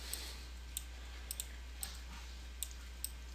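Computer mouse clicks come faint and close over a low steady hum. There are about eight sharp ticks, and some fall in quick pairs like double-clicks.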